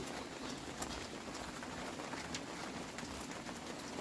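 Steady night rain, a soft even hiss with scattered faint patters, heard at a distance and with no voices.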